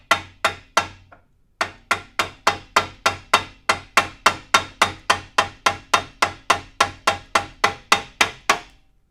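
A light hammer taps a corroded metal planer feed screw shaft in a steady run of about two dozen sharp, ringing metallic strikes, with a short gap after the first few; no voices.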